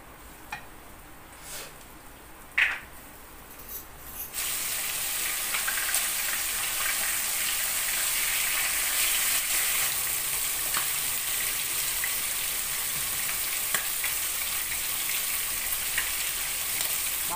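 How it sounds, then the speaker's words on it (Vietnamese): Cornstarch-coated shrimp drop into hot oil in a pan, and after a few quiet clatters a loud, steady sizzle of frying takes over and holds without talk. "Giờ nóng rồi bỏ tôm vô chiên."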